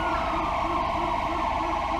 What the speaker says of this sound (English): Lights, sirens, here they come.